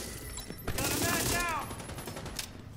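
Gunfire in the video game The Division 2, a burst of rapid shots lasting about a second that is loud against the quieter game ambience, with a few scattered single shots after it and speech in between.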